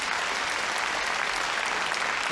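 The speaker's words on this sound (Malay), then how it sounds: "Beri tepukan untuk Azman, Azman Adnan." A crowd applauds steadily, dense and continuous clapping filling the whole stretch with no pauses.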